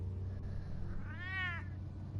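A single short meow from a cat in a Batman video game, rising and falling over a low steady background hum, with no talk.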